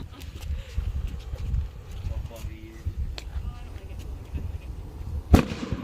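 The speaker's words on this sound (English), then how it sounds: "And that is how you turn your breakfast into explosion." A single sharp blast from a chemistry class demonstration that turns breakfast food into an explosion goes off near the end, loud and sudden, over a steady murmur of students talking and reacting.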